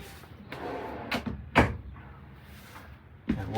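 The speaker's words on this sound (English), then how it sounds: "One drawer in the kitchen here." A kitchen drawer in an InTech Aucta Magnolia Rover travel trailer is worked close by, giving a few soft knocks and slides, then a sharper thud and a final bump in a quiet interior.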